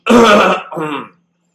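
A woman gives a short throat-clearing cough, two quick bursts close up, then silence.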